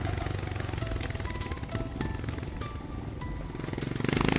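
A motorcycle engine and exhaust drone steadily while riding through Atal Tunnel in the Himalayas, a loud continuous close rumble with rising revs near the end.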